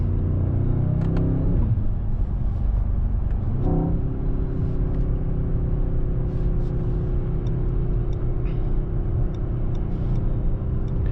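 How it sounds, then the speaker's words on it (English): Mercedes-AMG S63 E Performance sedan engine heard from inside the cabin, a steady low rumble with brief crackling pops of backfire near the start and again around four seconds, no talking. "now the backfire, that was nice"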